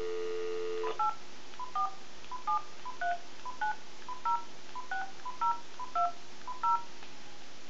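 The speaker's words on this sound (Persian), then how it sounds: "امیدوارم این صدای تلفن بچه شما رو بیدار نکنه" A telephone number being dialed: a dial tone cuts off, then a steady run of about a dozen short touch-tone beeps sounds alone and clearly, evenly spaced.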